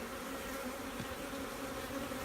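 A honeybee swarm being moved from a swarm trap into a 10-frame hive box gives off a dense, steady, unbroken buzzing hum that stays at an even, moderate level throughout.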